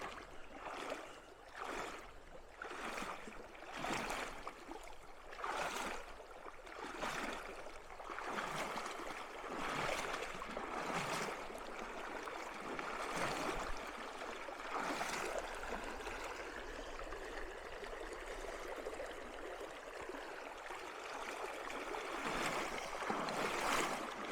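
Steady rushing of a flowing stream at a Gila River crossing, with rhythmic splashing and sloshing as a hiker wades through the water, close and continuous throughout.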